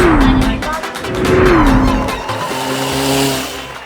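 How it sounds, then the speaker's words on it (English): Radio-controlled race car racing at an RC event, a loud close whining motor that rises and falls with tire squeals and skids, alone without talk. "The race car is leading, but the pickup truck is also following the race car."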